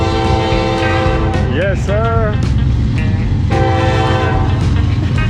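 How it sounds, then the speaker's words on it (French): Freight train rumbling past at close range, with a loud horn sounding in a long sustained blast and later a second one, steady rail noise throughout and a brief shout over it. "Je vais avoir un train."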